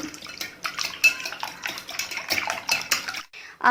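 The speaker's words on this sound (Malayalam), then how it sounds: "ഇനി ഇതെല്ലാം കൂടെ നല്ലപോലെ ഒന്ന് മിക്സ് ചെയ്തിട്ട് എടുക്കണം." Egg batter seasoned with pepper and salt being stirred in a bowl, close clinking and scraping of a utensil against the bowl in quick irregular bursts, ending with a brief pause.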